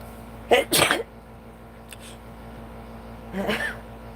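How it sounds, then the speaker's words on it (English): A close sneeze, a sharp breathy burst with a short intake before it, followed a few seconds later by a softer second expulsion. "I've got a sneeze welling up"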